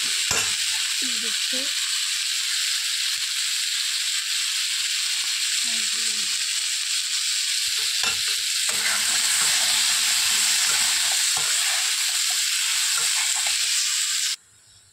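Potatoes fry with turmeric and cumin powder in a pan, a steady bright sizzle running nearly throughout under brief bits of talk, with occasional stirring clatter before it cuts off near the end.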